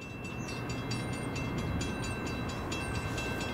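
An eastbound Norfolk Southern train led by a single ex-Conrail locomotive rolls past with a steady, loud, broadband rumble and rush of wheels. Faint high squeals and tones ride on top.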